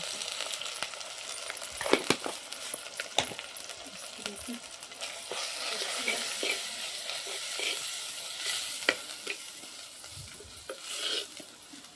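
Malvani masala spices roasting and being stirred in a pan, with a soft continuous sizzle broken by sharp scraping and clinking ticks of the spoon against the pan at close range, no talk.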